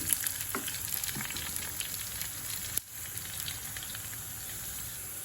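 Onions sautéing in a pan for a fish curry hiss in a soft, even sizzle, with a few light stirring taps and one abrupt knock partway through, and no one speaking.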